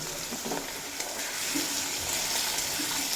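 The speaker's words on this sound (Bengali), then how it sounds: "আলু দুই তিন মিনিট মতো লো টু মিডিয়াম ফ্লেমে রেখে ভেজে নেব" Cut potatoes fry in oil over low to medium flame in a pan, giving a soft, even sizzle with light stirring noises, heard alone at a modest level.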